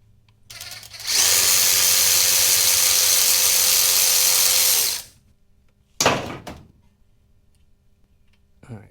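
A power tool spins out a small 10mm bolt holding a wheel speed sensor on a 2010-2016 Buick Lacrosse. It whirs loud and steady for about four seconds, then gives one short burst, with no talk.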